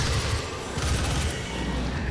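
Dense bursts of explosions and gunfire in the video game Doom rumble in a continuous low, booming barrage, loud and sustained across the moment.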